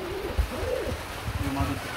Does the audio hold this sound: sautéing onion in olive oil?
no